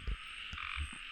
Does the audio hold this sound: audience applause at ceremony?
no